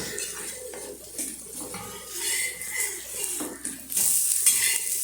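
Lentil dosa batter cooking on a pan in a home kitchen, with a soft continuous sizzle and scraping, stirring and utensil clinks against the pan, brief voices in the background.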